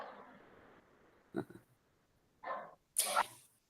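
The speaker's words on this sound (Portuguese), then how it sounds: "É os meus cachorrinhos aqui na rua." Small dogs out on the street give a few short barks and yips in separate bursts, mid-distance, with a quiet indoor room tone between them.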